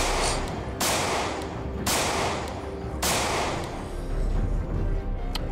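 Three loud bursts of gunfire from the zombie survival game Project Zomboid, spaced about a second apart, each with a sharp attack and a short ringing tail, over a steady background hum.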